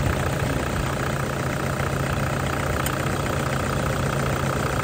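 A 2007 Toyota Vigo 2.5 G diesel pickup engine idles steadily up close, a loud, even low rumble with a constant mechanical clatter and no voices.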